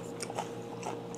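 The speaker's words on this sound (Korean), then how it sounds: "마트 갔더니 홍청양고추가 있더라고요. 이거 한 번씩 먹어주면 맛있어요." Crunchy bites into a red cheongyang chili pepper, several crisp crunches spaced through a short close-up chewing moment, with soft mouth sounds between bites and no talking.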